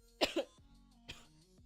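A person coughs twice in quick succession up close, followed by a softer throat-clearing cough a moment later.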